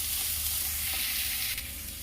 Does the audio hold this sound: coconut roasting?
yes